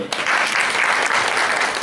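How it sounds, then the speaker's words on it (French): Audience at a press conference applauding a panel, a dense burst of clapping that starts abruptly and holds steady and loud. "On va applaudir tous nos panélistes."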